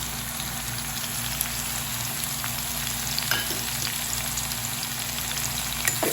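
Vegetables and curry leaves fry in hot oil for Kerala-style avial, a steady dense sizzle and crackle filling the space continuously, close and even, with faint stirring taps now and then.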